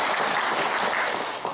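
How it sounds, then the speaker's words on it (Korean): A roomful of people at a public forum applaud, a thick continuous patter of clapping that stays full and even before easing slightly at the end. "큰 박수 부탁드립니다"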